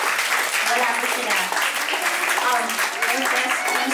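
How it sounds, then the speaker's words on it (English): Guests at a debut celebration clap for the debutante's parents, dense continuous applause close by, with voices talking over and through the clapping. "Please give them a round of applause."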